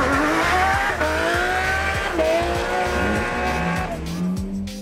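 A Lamborghini Murcielago V12 supercar drives with a loud, continuous engine note that rises and falls through gear changes, over a pulsing rhythmic music beat.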